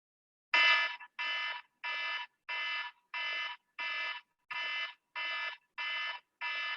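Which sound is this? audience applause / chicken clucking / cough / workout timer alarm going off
workout timer alarm going off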